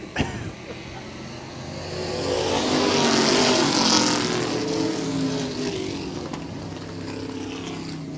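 Stock car race cars roaring past on a track, a broad engine roar swelling to a peak and fading as the cars sweep by, loud and continuous with crowd-like noise beneath.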